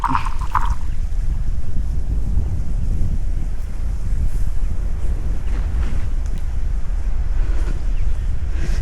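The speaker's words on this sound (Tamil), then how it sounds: "நான் இப்போது மடையை திறக்கிறேன் ஸோ இந்த தண்ணி வெளியில் ஏறட்டும்" Water rushes out of a paddy field through an opened sluice gate, a steady loud gushing wash that fills the whole stretch, with wind buffeting the microphone throughout.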